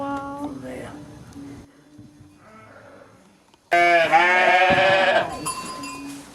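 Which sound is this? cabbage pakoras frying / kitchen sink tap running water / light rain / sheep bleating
sheep bleating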